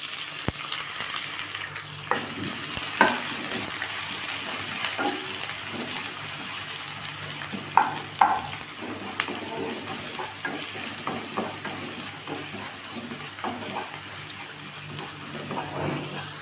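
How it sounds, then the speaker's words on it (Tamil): Chopped onions sizzle and fry in a pan for red poha upma, a steady hiss broken by scattered clinks and scrapes of stirring. "இப்போ நம்ம கட் பண்ணி வச்சுருக்க வெங்காயத்தை சேர்த்துக்கலாம்."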